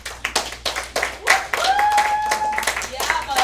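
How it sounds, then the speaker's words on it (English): A small kids' class applauds a child's reading, with a handful of separate, uneven claps close by, then denser clapping as voices cheer and talk over it. "let's give a round of applause to Noah for his reading."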